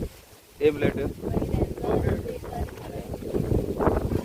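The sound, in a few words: strong wind blowing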